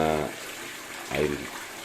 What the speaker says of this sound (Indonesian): air mancur atau air terjun kecil ini